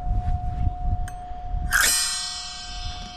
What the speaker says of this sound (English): Bell tree.